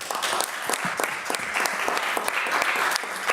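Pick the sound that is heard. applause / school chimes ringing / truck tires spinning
applause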